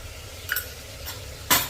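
Mutton with chopped green chillies is stir-fried in a pan over low to medium flame: a soft sizzle under a few scraping stirs, ending with one louder, sharper scrape of the spoon against the pan.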